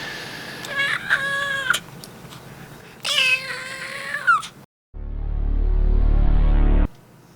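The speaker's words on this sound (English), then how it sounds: "This is my new cat." A cat meows loudly and close by in two drawn-out, wavering cries, followed after a short pause by a lower continuous rumbling sound that cuts off abruptly.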